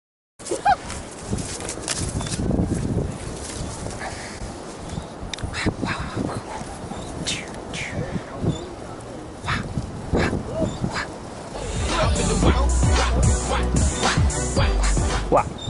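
A dog whines and yips repeatedly at a beach fishing spot on Dania Beach, high whimpers scattered over wind and surf, with a voice talking intermittently and a louder gust of wind near the end.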